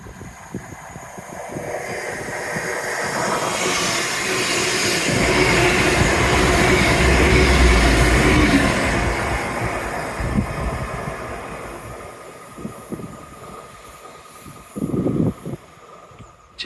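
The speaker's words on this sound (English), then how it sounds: "Oh, train. Lovely." A train rumbles past on a seafront railway along a seawall, a long swelling roar of wheels and carriages that builds to a loud peak mid-pass then fades away, with rail clatter at the tail, no talk.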